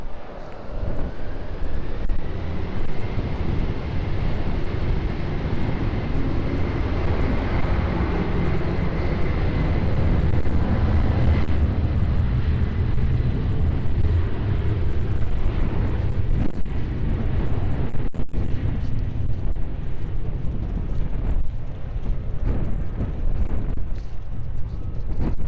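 A jet airliner takes off at Lisbon Airport, its engine roar loud and steady throughout with a rising whine early on, close to the listener and unbroken for the whole stretch.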